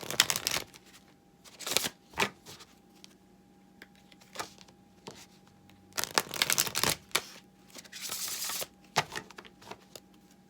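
A Spirit Animal Wisdom oracle card deck is shuffled in repeated bursts of riffling and flicking card noise, close and crisp, with quiet pauses between the bursts.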